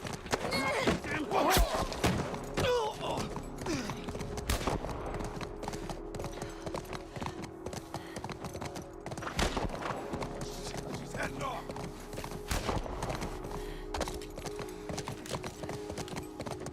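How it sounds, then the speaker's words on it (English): Horse hooves clip-clop steadily and nearby in the video game The Last of Us Part I, with a rhythmic thudding gait running the whole time under game sounds and speech. "The horse! Shit, the fucking horse!"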